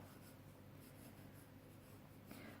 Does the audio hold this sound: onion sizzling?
no